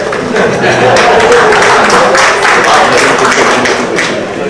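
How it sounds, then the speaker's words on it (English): An audience at a Hindu Unity Day gathering in New York claps loudly and continuously, a dense, close wash of applause that holds for several seconds with little else heard. "please start clapping"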